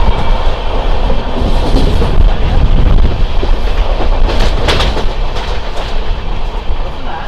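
Pinakini SF Express on a new LHB rake speeding through Tanguturu station without stopping, a loud steady rumble with clickety-clack of wheels over rail joints and brief squeals, no talk.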